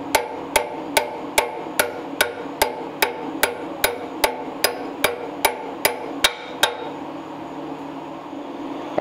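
Old bushings are hammered out of a 1934 Ford axle with about fifteen sharp metallic blows at a steady quick rhythm, close and ringing, followed by a few seconds of quiet workshop hum.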